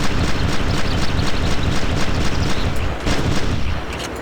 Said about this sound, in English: Rapid fire shotgun.